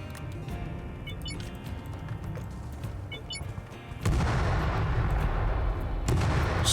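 Dynamite blasts in a disposal ditch in the video game Astroneer: muffled booms and rumbling over an ambient hum, then a louder sustained burst of explosive roar near the end.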